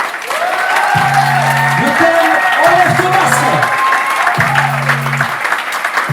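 Applause and cheering from a conference audience greeting the speaker, a continuous crowd roar, while a loud voice speaks over it.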